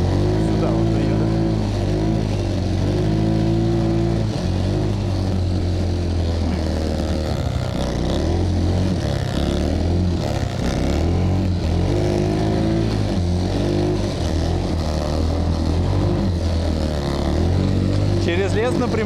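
Ataki WD 150 snowmobile engine running steadily while riding along rutted snowy tracks, a loud continuous motor drone with shifting pitch, heard close up with a person talking over it.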